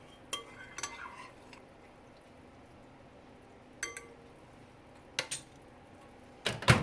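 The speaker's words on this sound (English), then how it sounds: "I have to just stir it once with a steel ladle, not a plastic, because it will be very hot inside." A steel ladle stirs hot ghee made from homemade butter, giving a few sharp metallic clinks and scrapes in separate bursts against the vessel, close up and otherwise quiet.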